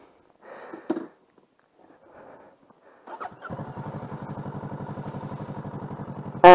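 A 2021 Kawasaki Ninja 650 motorcycle pulls away: a few faint clunks and shuffles, then the engine catches into a steady, close, rhythmic parallel-twin pulse that holds for several seconds before a sudden louder burst at the end.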